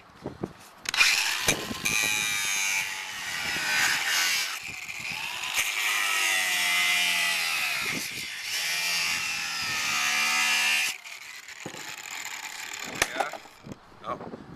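A power tool trims a lip off a workpiece in a steady, loud whining cut that runs for several seconds, pauses briefly, then resumes before stopping, with short mechanical clatters around it.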